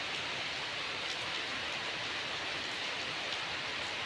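Unseasonal March rain falls in a dense, even hiss that holds steady throughout, a soft wash of countless drops on surfaces with no voices or other sounds.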